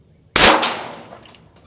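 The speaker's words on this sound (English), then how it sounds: "then I'll put another round through the metal" A single loud, sharp metallic bang as a .380 pistol round is fired through a metal panel, with a ringing clang that decays over about a second.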